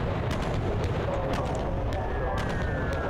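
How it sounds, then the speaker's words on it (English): Artillery shelling rains down on a land installation in the World War II bomber game Bomber Crew, a steady rumbling barrage with repeated muffled blasts and a faint whistle, heard under constant engine drone at moderate loudness. "He's getting shelled. We gotta drop artillery."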